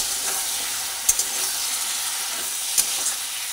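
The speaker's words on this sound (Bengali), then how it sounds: "সেজন্য অল্প করে জল দিলাম, দিয়ে সবজিটা ভালোভাবে মিশিয়ে ভেজে নিচ্ছি।" Vegetables cooked with poppy seed paste and cashews frying in a pan with a little water, a steady close hiss and sizzle with two sharp stirring clinks.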